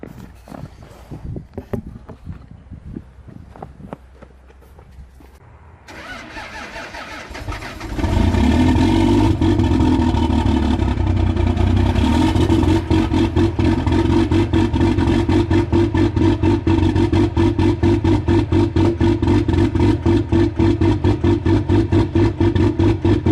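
A truck engine cold starts in -1 degree weather without grid heaters or a block heater. Quiet clicks and shuffling come first, then the starter cranks, and the engine catches into a loud, steady, clattering idle.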